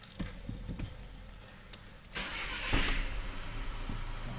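A Skoda car with a TSI engine starts up close by: a brief cranking burst, then the engine catches and settles into a steady idle.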